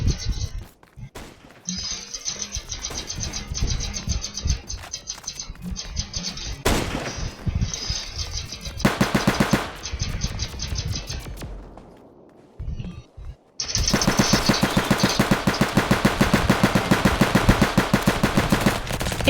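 Rapid bursts of gunfire in the Roblox game FlagWars crackle through most of the stretch, with dense automatic fire growing loud and continuous toward the end and a brief quiet gap just before.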